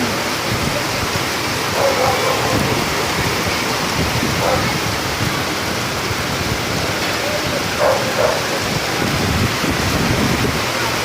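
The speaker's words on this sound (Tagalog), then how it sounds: "Ang lakas ng ulan." Heavy rain pours down in a dense, constant roar, with faint voices and other sounds now and then beneath the downpour.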